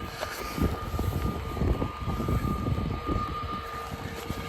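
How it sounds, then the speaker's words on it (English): A Ryanair aircraft pushes back at Bristol Airport, a steady engine roar with a faint high whine, heard from a distance. "in the background, there's a Ryanair pushing back as well"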